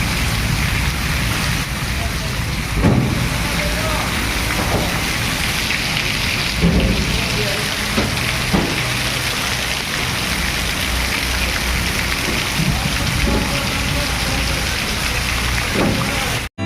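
Steady heavy rain in Morbi, Gujarat hisses throughout, with several low rumbles of thunder rolling in at intervals.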